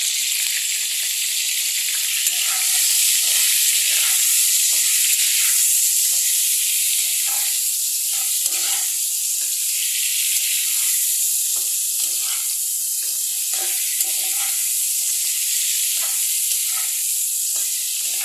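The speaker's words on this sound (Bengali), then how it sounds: "আলু ফুলকপিটাকে একদম হালকা ভাজা করে উঠিয়ে নিয়েছি" Constant loud sizzling and hissing of potato and cauliflower frying in oil, with faint intermittent stirring scrapes throughout and no voices.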